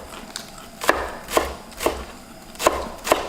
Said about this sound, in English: Scallions, you want to cut them small.